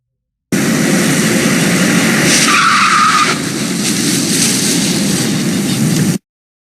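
A car's tyres squeal loudly on a wet road as the wheels lock under braking, one continuous skid lasting several seconds close by, then cutting off.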